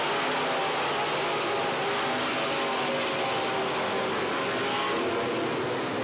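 Limited modified race cars roar together under the green flag at a dirt track, a dense, continuous wash of engine noise heard from a distance with no break.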